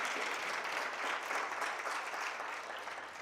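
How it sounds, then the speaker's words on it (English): Loud, steady audience applause at an MTN Pulse business event, a dense wash of many hands clapping that holds evenly for a few seconds without talk. "I'm expecting a loud applause from you"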